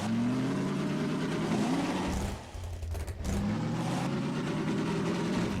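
A vehicle engine drones steadily while driving in Left 4 Dead, its mid-pitched hum rising and shifting with speed, briefly dipping midway before resuming; loud and continuous with no talk.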